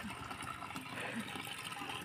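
Water fills a container in a steady, rushing pour, moderately quiet and continuous, with faint background noise.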